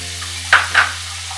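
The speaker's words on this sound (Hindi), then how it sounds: "ये आंच पे मैंने कढ़ाई रख लिया। अब हम इसमें बटर डालेंगे।" Butter goes into a hot kadhai for Mumbai-style pav bhaji and gives two short sizzling bursts, close and fairly loud, with quiet in between and no talking.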